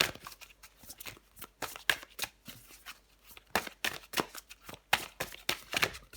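Tarot cards shuffled by hand in a December Capricorn reading, a quick irregular run of crisp snapping riffles and slides, close and fairly quiet with no voice over it.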